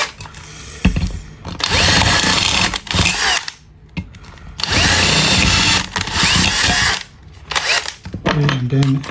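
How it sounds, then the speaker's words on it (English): A power drill whirs in several bursts, drilling ventilation holes in a coke can, revving loudly for a couple of seconds each time, with pauses and brief voice in between. "The last thing is to drill more holes here for ventilation."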